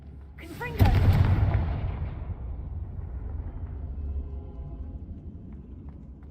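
A Confringo fire spell blast from the video game Hogwarts Legacy lands as one heavy booming explosion, followed by a long low rumbling decay.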